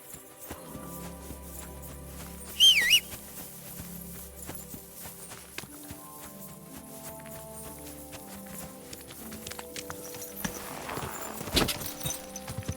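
Horse hooves clip-clop at a walking pace in the video game Kingdom Come Deliverance II, moderately near and fairly soft, set among a low music bed with a brief louder accent partway through.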